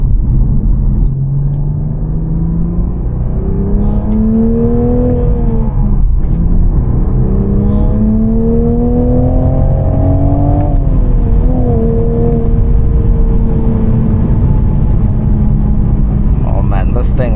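A 2024 Toyota GR Supra with a manual gearbox accelerates hard from inside the cabin, engine note climbing through several gears with brief dips at each shift, steady loud rumble throughout.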